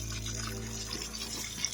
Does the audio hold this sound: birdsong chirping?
no